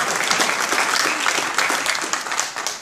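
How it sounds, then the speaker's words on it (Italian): A warm round of applause from an Italian audience at a thank-you gathering for a volunteer group, honoring an abbess; dense, close clapping filling the whole short stretch at a steady, energetic level. "io chiedo veramente un applauso veramente di cuore per la badessa"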